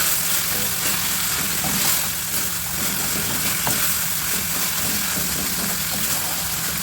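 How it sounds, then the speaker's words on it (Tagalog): Vegetables, including green beans, are sautéed in a pan for pancit guisado, giving a continuous close, loud sizzle with faint stirring underneath throughout. "igigisa muna natin yung vegetable niya"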